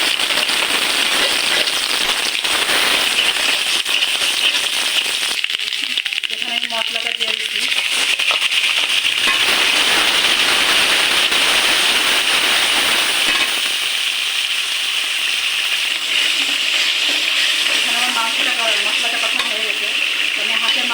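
Sliced onions sizzle in hot oil in a wok-style kadai at the start of a duck curry, with a steady, fairly loud crackling hiss that swells and fades over about twenty seconds.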